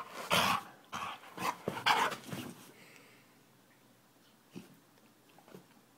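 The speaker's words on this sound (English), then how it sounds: "Crazy puppy." A puppy lets out a quick run of close, sharp barks and whimpers, then falls mostly quiet, with only a couple of faint yips near the end.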